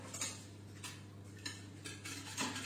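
Batter for coffee and chocolate eclairs is whisked in a jug, making soft repeated scraping strokes in a quiet, even rhythm.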